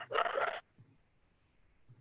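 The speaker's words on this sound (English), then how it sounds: "I can hear a dog barking." A dog gives a single sharp, fairly close bark during an online meeting, followed by near silence.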